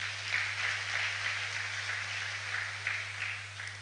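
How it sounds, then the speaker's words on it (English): Scattered applause from a seated audience at an agricultural gathering, moderately distant and fairly steady for a few seconds over a constant low electrical hum, with no talk. "Let's clap for everyone that is in this room."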